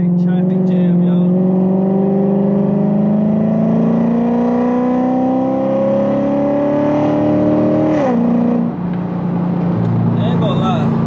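A Chevrolet Corvette C7 moving through stop-and-go traffic, its engine note climbing steadily in a loud, close, continuous drone before easing and settling again.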